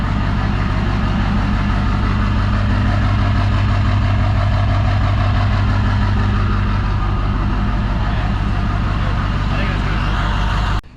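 A Ford OBS 7.3 diesel truck engine with an aftermarket cam idles steadily and loud up close, a deep lumpy rumble running throughout before cutting off at the very end.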